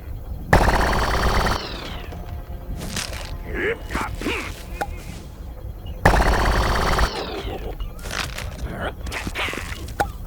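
Two bursts of loud mechanical weapon clatter from a Plants vs. Zombies Garden Warfare 2 character reloading, each followed by clicks and metallic handling noises, with the second pass, using a reload upgrade, quicker and higher-pitched.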